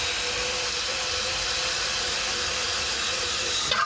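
A plastic bristle brush scrubs steadily over the transmission pan of a 2002 GMC Sierra 1500 with a 5.3L engine and 4L60E transmission, making a close, continuous rough rubbing hiss.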